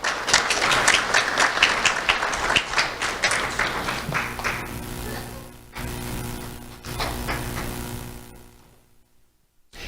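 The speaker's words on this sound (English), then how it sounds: "Let's have a round of applause for Challie Smith." An awards ceremony audience breaks into loud, dense applause that gradually thins into scattered claps before fading out.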